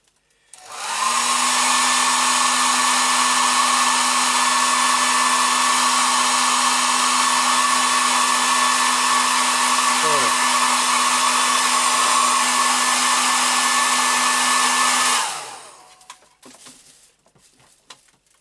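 A hair dryer blows steadily and loudly for about fourteen seconds to soften material while assembling an Ecto-1 model, starting and stopping sharply, then a few faint handling noises.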